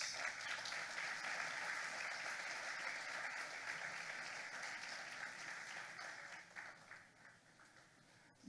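A church congregation at a baptism service applauds together, a dense sustained wash of clapping that gradually thins and fades toward the end, with faint voices underneath.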